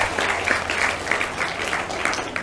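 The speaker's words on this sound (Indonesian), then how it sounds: "Tepukan gemuruh." Thunderous applause from a crowd at an Islamic religious gathering, dense steady clapping filling the whole stretch at close range with no voices over it.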